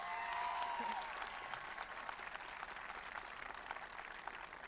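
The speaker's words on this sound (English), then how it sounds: "Give them all a round of applause" Crowd applause at a 1996 Bill Clinton rally in Providence, Rhode Island: a broad, sustained wash of many hands clapping, somewhat distant, with a brief whistle at the start.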